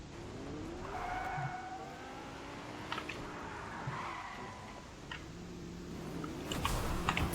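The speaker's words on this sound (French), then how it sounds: "Voilà, on peut sortir des voitures." Cars driven in the Fortnite video game rev and squeal their tires through repeated skids and accelerations, with engine pitch rising and falling across several passes and a louder burst near the end; no talking.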